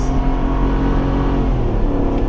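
A Ford F350 pickup with the 7.3L gas engine pulls hard at wide open throttle while towing a fifth-wheel trailer, a loud, steady engine roar with rising harmonics filling the whole stretch, close and continuous with no talk.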